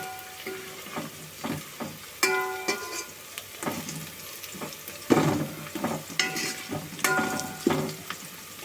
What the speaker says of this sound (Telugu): ఇంగను కూడా శుభ్రంగా మొత్తం కలిసి చూసుకుంటున్నాం